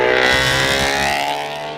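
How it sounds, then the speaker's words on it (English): Loud modified exhaust on a Ford RS, a steady droning, harmonic-rich roar that holds strong for under two seconds before easing off slightly, close by with no talking. "As you can tell, it was quite a loud exhaust system"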